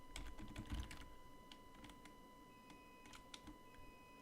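Keys clatter on a computer keyboard as a terminal command is typed, quick clustered clicks early, then a few spaced taps, close and fairly quiet over a faint steady hum.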